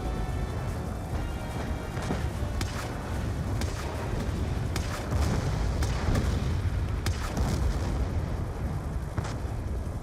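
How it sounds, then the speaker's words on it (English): Repeated heavy explosions and booming blasts from tanks being destroyed in Call of Duty: Black Ops II, dense and continuous over a rumbling low-end battle din, with sharp bursts recurring every second or two. "I've just taken out all those tanks on one run each"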